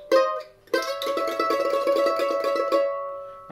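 Mandolin double stops slid up a third within the key, a bright plucked attack followed by a rapid tremolo of paired notes, close and alone.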